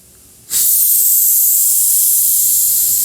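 Silence, then a sudden steady rush of high airy hiss as air is blown by mouth through a stuck spray can nozzle, continuing loud and unbroken to the end.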